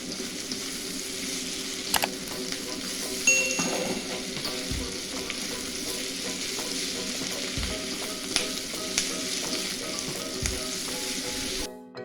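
Tempe and green chili stir-frying in a pan, a continuous close sizzle with spatula scrapes and a few light metallic taps.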